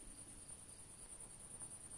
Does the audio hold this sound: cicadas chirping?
yes